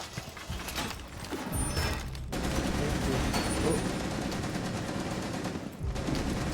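Sustained automatic gunfire from the video game Rainbow Six Siege, dense rapid bursts heard close and loud for several seconds, with a brief pause near the start.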